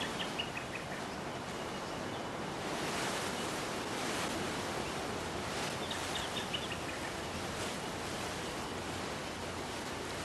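Strong wind blows in a continuous broad roar across an Australian valley, steady and rushing, with faint bird calls chirping in the distance.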